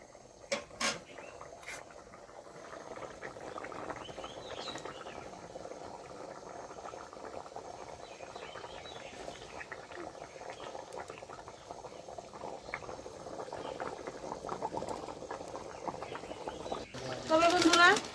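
Duck egg curry gravy bubbles in a pan at a steady simmer, a soft continuous burble with small pops, fairly quiet and close, with a few clacks of utensils.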